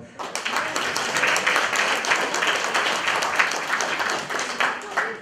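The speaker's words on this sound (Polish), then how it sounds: "a teraz za niego brawa" An audience at a Women's Day stage event applauds, a dense, lively stretch of clapping that starts abruptly and stays loud with crisp individual claps.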